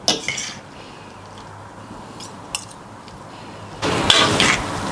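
Utensil clinking and scraping against a bowl while stirring Pancit Canton noodles to mix in the sweet and spicy and hot chili seasoning, with a few sharp knocks and a busier burst of mixing near the end.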